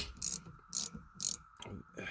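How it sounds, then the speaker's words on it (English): A ratchet wrench loosens a rear shock bolt on a 2010 Lincoln MKT, giving three sharp close clicking bursts at an even rhythm, then a softer fourth. "I like putting a ratchet wrench down here and just start loosening it"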